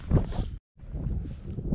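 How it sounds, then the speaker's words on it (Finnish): Strong gusts buffet the microphone in open winter fell country in Lapland, a rough close roar that cuts out briefly and then returns. "Vähän turhan kova tuuli"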